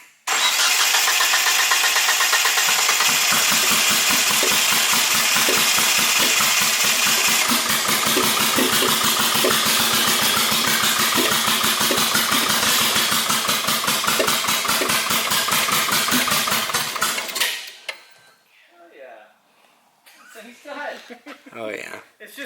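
A big-turbo AWD first-generation Mitsubishi Eclipse GSX engine runs loud and close with a dense string of rapid popping backfires for about seventeen seconds, then cuts out, leaving quieter voices.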